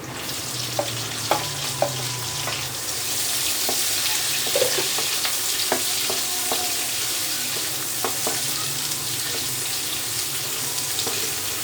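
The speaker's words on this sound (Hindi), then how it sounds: "अब इसमें प्याज डाल देते हैं।" Onion dropped into a pan of browned black chickpeas for bhune kale chane, a loud steady sizzle taking hold after a few seconds, scattered with light scraping and clicking stirs, close throughout.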